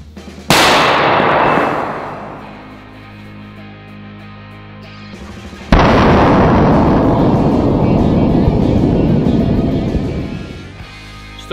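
A sledgehammer drops onto a burning firecracker, giving a sharp, loud metallic impact that rings and decays, followed a few seconds later by a sudden, powerful firecracker blast whose rumbling roar lingers before fading.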